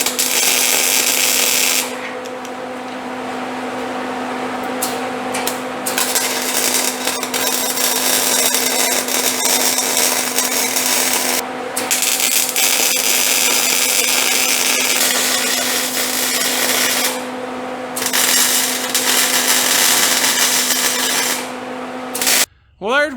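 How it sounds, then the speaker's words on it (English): Welding a running board onto an old truck: a loud, steady crackling hiss that runs in long continuous beads, broken by several brief pauses, over a constant electrical hum, with no talk. "Let me get that welded on."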